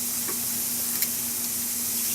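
Thin marinated arrachera fajita meat sizzles steadily on a grill, a constant bright crackling hiss with a faint hum beneath and no talking.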